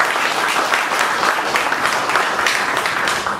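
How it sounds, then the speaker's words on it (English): A seated audience at a Toastmasters meeting gives a round of applause, dense steady clapping from many hands that holds at full strength throughout, close and loud with no speech over it. "please give John Bosco a big round of applause"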